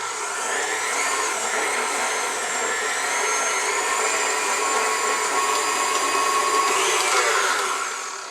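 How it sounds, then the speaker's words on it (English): An electric mixer creams butter and sugar for cookie dough on medium-low speed, giving a steady, close, continuous motor whir that holds evenly throughout with no talking. "we are going to cream the butter and sugar for 2 minutes, and you want to do it on medium-low"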